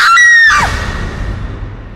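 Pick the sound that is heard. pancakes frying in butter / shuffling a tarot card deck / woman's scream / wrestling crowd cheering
woman's scream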